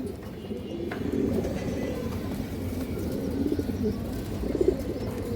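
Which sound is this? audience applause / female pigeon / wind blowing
female pigeon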